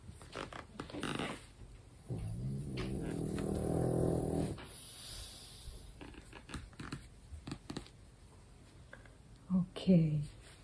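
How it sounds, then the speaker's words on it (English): Two sleeping dogs growl softly. A low rumbling growl lasts about two seconds, quieter snuffles and rustles follow, and a short grumble comes near the end. It is close and faint. "both dogs here. I wonder if you could hear them."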